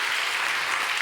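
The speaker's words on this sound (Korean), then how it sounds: "다시 한번 박수하도록 하겠습니다" A church congregation applauds during a Korean Sunday worship service, a brief, dense burst of many hands clapping at steady strength throughout.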